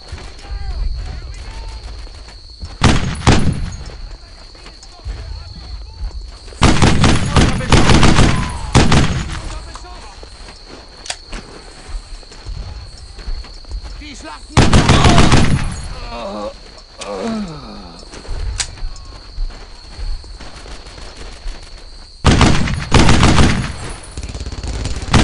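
Bursts of rifle and machine gun fire from a World War II battle in the shooter Brothers in Arms: Earned in Blood, coming in loud repeated volleys with quieter gaps between them while voices shout over the fighting.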